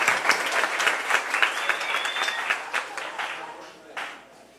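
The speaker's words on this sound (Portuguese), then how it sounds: "palmas para os atores" A congregation at a church ministry session applauds the actors of a skit, a lively burst of many hands clapping with distinct sharp claps, tapering off over several seconds while people talk.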